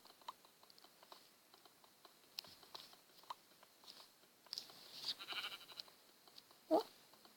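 A faint sheep bleat rises near the end amid soft clicks of a mobile blocky sandbox game (pocket edition), with light tapping and quiet game ambience throughout.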